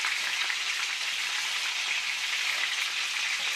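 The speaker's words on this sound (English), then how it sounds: "I've got my vegetables cooking up over here" Vegetables sizzle steadily in a hot pan for a garlic chicken and carrot garlic soup meal, a close, even, continuous frying hiss with no talking.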